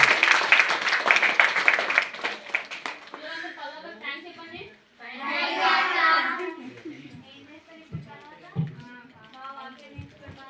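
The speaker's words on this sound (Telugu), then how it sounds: "అందరూ క్లాప్స్ కొట్టండి." Sunday school children clapping at a Christmas celebration, a brisk burst of many hands at the start, then fading into talk and singing-like voices with a few isolated claps later.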